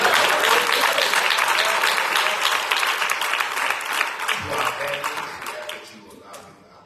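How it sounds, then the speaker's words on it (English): A church congregation at a bishop's consecration claps hands in praise, loud and dense with voices mixed in, gradually fading over several seconds. "give God a hand clap of praise."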